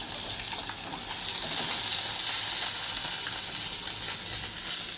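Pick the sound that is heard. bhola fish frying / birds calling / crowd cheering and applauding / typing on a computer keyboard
bhola fish frying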